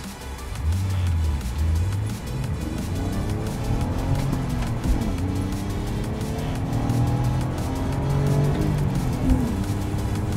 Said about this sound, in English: All right, so guys, I'm gonna do 0 to 60.